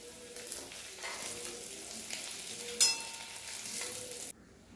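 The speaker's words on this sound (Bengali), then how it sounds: "আলুগুলো আমার লাল লাল করে ভাজা হয়ে গেছে," Potato pieces frying in oil in a kadai until reddish, giving a constant close sizzle with stirring scrapes and a sharp clatter partway through before it cuts off.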